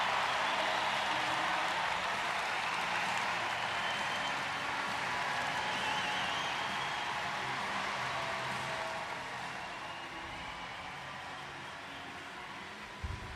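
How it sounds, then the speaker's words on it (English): Sustained applause from a large crowd at a 2012 London Paralympic Games swimming event, a dense wash of clapping that slowly fades over several seconds. "there's the applause for the British ladies"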